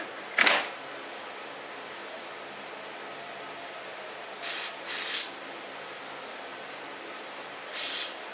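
Short hissing aerosol sprays on a part during lubing of an Access IS ATB 423 mechanical keyboard with Cherry MX switches: one quick spray, then a pair of bursts, then a final one, close and crisp against a quiet background.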